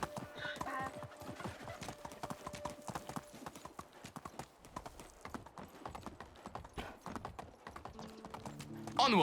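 Donkey hooves clip-clop steadily while riding in the Medieval Dynasty video game, a close, even rhythm of hoofbeats that continues across the whole stretch with a faint sound of a horse at the start.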